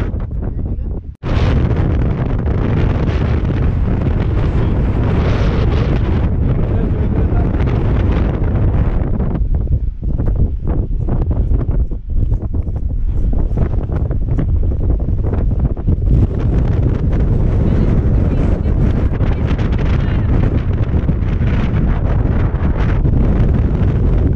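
Strong wind roaring continuously across the microphone on a mountain road where motorcycles are stopped, a loud, unbroken rushing that buffets and fills the whole span after a brief drop.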